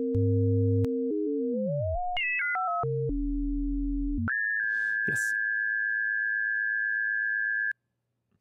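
Pure sine-wave tones from a Pure Data synth carrier, stepping and gliding through several pitches, sweeping down and jumping up before settling on one long steady high tone that cuts off abruptly, clean and electronic with no voices.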